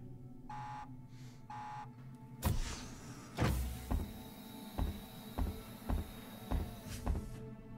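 Elevator in the sci-fi horror game Alien Isolation starting up with a whirring hum, then a series of evenly spaced heavy mechanical clunks as the car moves, fairly close and with no voices over it.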